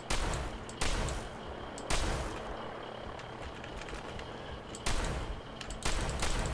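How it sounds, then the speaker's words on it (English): Bullets fired in Fallout 4: loud, close gunfire with several sharp shots standing out over a dense, rattling stream of rounds that keeps going throughout. "Some of these bullets hit, some of them don't."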